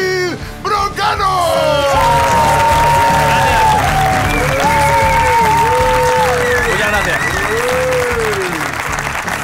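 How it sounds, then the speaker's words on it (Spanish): Studio audience of the Spanish comedy show La Vida Moderna breaks into loud, sustained applause with cheers and whoops for host David Broncano, filling the whole stretch while a voice calls out over the crowd. "pido un fuerte aplauso para David Broncano"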